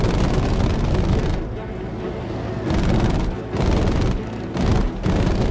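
Gunfire aimed at the player in the Battlefield V video game comes as dense, loud booming bursts of shots, broken by a few short quieter gaps, with someone talking over the battle.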